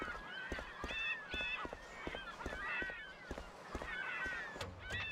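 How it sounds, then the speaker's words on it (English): Birds honk repeatedly in the video game Mafia, goose-like calls coming in bursts over an ambient background with soft clip-clop thuds, moderately close and faint overall. "I fucking hate the sound of those birds."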